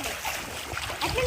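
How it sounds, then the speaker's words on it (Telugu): Water splashing and churning around a wave board while someone surfs, a steady close wash of spray with a surge near the end, voices faintly mixed in. "వాటర్ సర్ఫింగ్ చేయడం"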